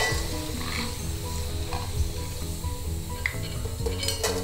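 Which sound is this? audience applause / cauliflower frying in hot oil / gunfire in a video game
cauliflower frying in hot oil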